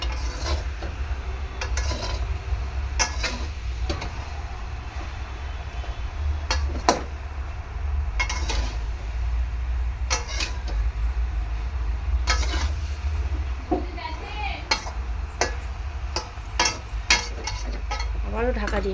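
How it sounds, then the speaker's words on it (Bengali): Metal spatula stirring salted taro greens in a cooking pan, with repeated irregular scraping and rubbing strokes over a steady low hum, no voices. "খুন্তি দিয়ে একটু এরকম নাড়াচাড়া করে নেব, যাতে লবণটা প্রত্যেকটা শাকের মধ্যে ভালোভাবে মিশে যায়"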